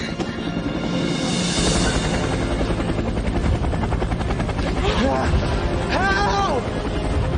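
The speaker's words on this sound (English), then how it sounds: "It's a helicopter." Helicopter flying overhead with a loud, steady rotor thrum that fills the whole clip, while voices shout and call out over it.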